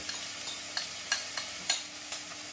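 Onions, tomatoes and garlic sizzle in olive oil, a bright continuous hiss punctuated by regular scraping strokes of a spoon stirring the pan, close and alone without talk.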